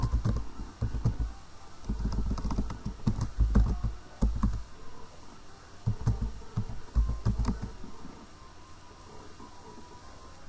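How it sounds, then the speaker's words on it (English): Someone types an email address and password on a computer keyboard, with irregular bursts of close, clicky keystrokes and short pauses between them. "just type your email address and your password"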